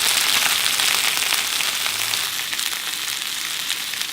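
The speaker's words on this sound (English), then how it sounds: "Okay, I got a nice sear on there." A loud, steady, close sizzle from a basil-crusted rack of lamb searing in a skillet, a dense hissing spatter that holds constant throughout with no voices.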